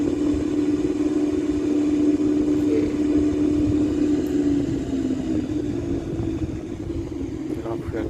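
Cessna light aircraft engine held at about 2,500 rpm during a run-up at a military airfield, a steady loud droning hum with a constant pitch that eases slightly near the end, filling the whole stretch without pause.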